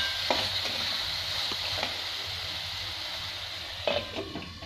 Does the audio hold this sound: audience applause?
no